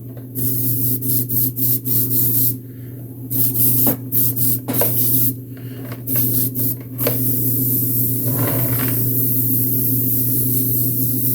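An airbrush that is still not spraying right after cleaning sprays paint for tinting rock detail on a miniature, giving repeated short hissing bursts with brief gaps, then a longer continuous spray, over a steady background hum.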